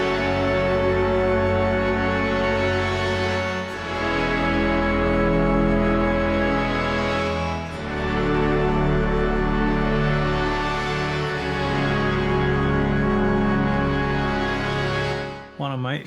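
An FM synth patch called Asylum on a Novation Peak plays a dense, sustained chord progression, loud and continuous throughout with slow swelling changes and no talking.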